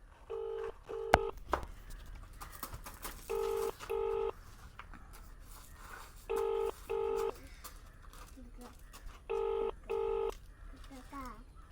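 Three pairs of bright telephone keypad tones beep at steady intervals, each pair a quick double beep, over a faint background hum and a few clicks.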